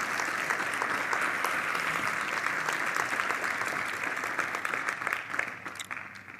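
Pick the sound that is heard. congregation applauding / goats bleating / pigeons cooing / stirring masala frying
congregation applauding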